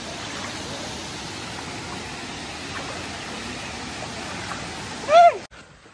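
A shallow, walkable stream at an outdoor nature spot flows with a steady, even rush of water throughout, swelling briefly louder near the end before cutting off.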